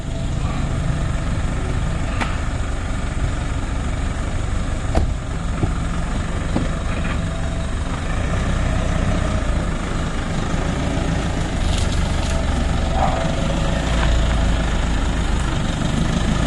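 A motor engine idles steadily for a long stretch, a low continuous rumble with occasional faint clicks and no talking.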